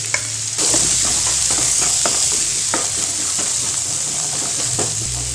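Boiled chickpea sundal with curry leaves is stir-fried in a pan, giving a steady close sizzle with scattered scraping stirs and clinks of the spoon.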